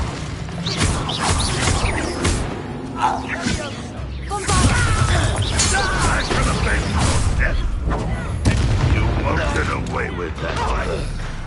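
Bombarda explosion spell cast in the video game Hogwarts Legacy, heard as loud crashing, creaking impacts with rumbling debris amid busy combat sounds, while voices speak over the fighting.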